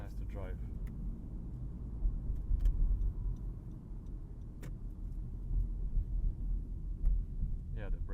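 A 2016 Honda Civic drives along, heard from inside the cabin as a low, steady engine and road hum with faint ticking clicks and some quiet talk.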